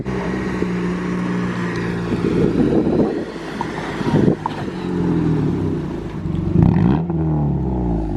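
A Honda Civic with its muffler deleted revs its exhaust loudly and close by, producing a steady deep drone that swells through several throttle blips and falls back, with no talk.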